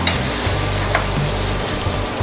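Kadhai paneer is stirred in a frying pan, a loud, dense close-up sizzle with a low rumble underneath and a faint scrape or two, briefly and without speech.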